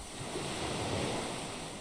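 Calm sea waves from the video game Disco Elysium, a steady, even wash of surf with no individual breakers, fairly close and alone.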